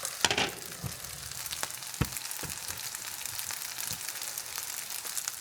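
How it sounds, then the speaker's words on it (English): Sausage fries in a screaming hot pan, a steady low crackling sizzle with occasional sharper pops and the clack of a utensil stirring, close by and fairly quiet. "And you can still hear it sizzling."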